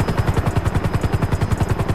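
A helicopter in a GTA RP video game thrums with fast, even rotor chops, loud and close, under a constant whine with no voices.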